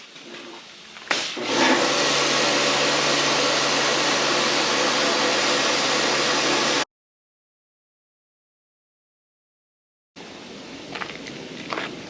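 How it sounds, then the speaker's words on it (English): A pressure washer sprays soaked paint off motorcycle fuel tanks, a loud steady hissing roar running for several seconds, cutting to silence, then resuming with rougher spray noise. "You see that pressure washer takes almost all that paint off after it's been soaking."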